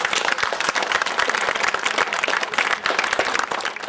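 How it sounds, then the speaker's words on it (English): Crowd at a community partnership gathering applauds, many hands clapping in a lively, uneven patter with distinct nearby claps popping out over the steady wash, fairly loud and unbroken by talk. "Give yourselves a round of applause."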